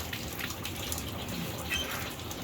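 A newly fitted water pipe at a beach house build in the Philippines is bled, a faucet spitting air and water in a continuous rough gush with sputtering bursts, close and fairly loud.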